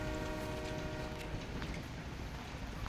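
A moving train in a shooter video game rumbles steadily with a droning hum and faint rail clatter, moderately close and continuous, with no speech over it.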